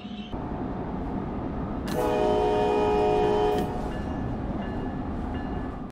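An NJ Transit train with multi-level coaches and a cab car rumbles past under a continuous rail roar, its horn sounding one sustained, chord-like blast of about two seconds.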